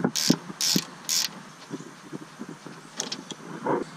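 A ratchet on a 10mm bolt on the AC condenser bracket of a 2006-2011 Honda Civic Si, a few quick bursts of clicking followed by softer taps and scrapes, close up, no voices.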